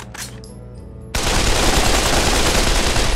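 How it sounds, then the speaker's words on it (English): An M4 rifle in Pavlov VR lets loose a sudden burst of sustained automatic fire, loud and close, hammering steadily for about two seconds after a brief quiet lead-in. "Now that you know how to shoot the M4"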